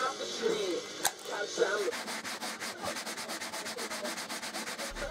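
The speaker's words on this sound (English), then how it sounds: "and did some more sanding." A wooden fretboard radius block faced with hot-glued sandpaper is worked back and forth, giving close, steady rasping strokes in a regular rhythm after a few sharper knocks at the start.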